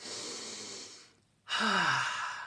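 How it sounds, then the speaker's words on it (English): A slow, audible breath out, a brief pause, then another deep airy breath, close and unhurried with no talking, a breathing exercise for anxiety. "you're going to breathe in deeply and out"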